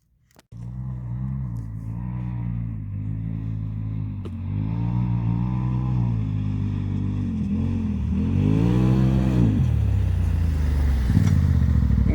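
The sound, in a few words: Honda motorcycle riding off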